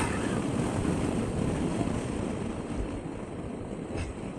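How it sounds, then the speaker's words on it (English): Strong wind blows by a lake with small waves, roaring steadily against the microphone as a broad, constant rush that eases slightly toward the end. "You can see how strong the wind is."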